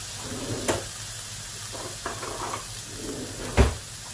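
Soft, steady sizzling of onions frying in water without oil in a pan, with a couple of brief clatters or knocks partway through; no talking.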